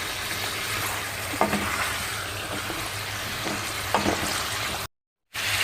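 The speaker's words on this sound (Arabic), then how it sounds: "الحين بضيف الزيت في المقلاة لما يسخن. من يسخن أضيف الدجاج" Chicken pieces fry in hot oil in a pan with a steady, close crackling sizzle, and a couple of stirring scrapes and knocks stand out. The sound cuts out briefly near the end, then returns.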